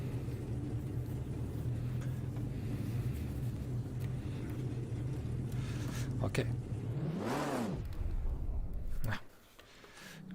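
A 1958 Formula 1 car in Automobilista at Spielberg 1974, engine droning steadily at constant revs, then one sharp rev swelling up and falling away before the sound drops off; someone speaks briefly.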